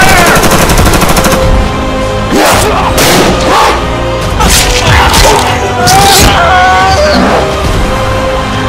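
Rapid bursts of gunfire in an animated Venom: Maximum Carnage trailer, loud and dense over heavy score and effects, with several sharp volleys and impacts through the clip.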